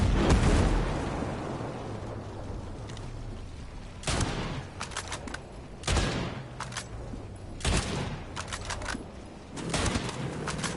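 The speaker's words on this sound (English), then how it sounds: "Enemies attacking with mortars." Enemy mortar fire in Ghost Recon Breakpoint, heard as a run of loud, sharp blasts and impacts at irregular intervals, with rumbling between the hits.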